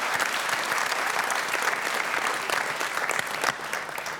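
Steady, dense audience applause at a Dancing Peel en Maas dance competition, many hands clapping continuously and evenly for several seconds, fairly close and full, with no voices over it.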